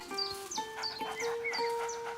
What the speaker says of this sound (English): you can pet the dog in this game